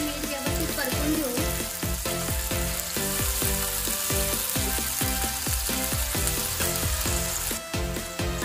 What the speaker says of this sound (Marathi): आणि एक चमचा आलं लसूण पेस्ट टाकून दोन ते तीन मिनिट व्यवस्थित परतून घेऊ।